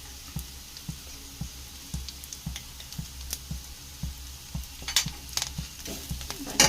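Drumstick leaves fry in a pan with a soft continuous sizzle, while a utensil stirs them in steady, evenly spaced scraping taps, close and fairly quiet.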